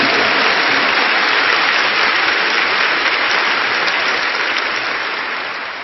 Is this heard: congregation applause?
yes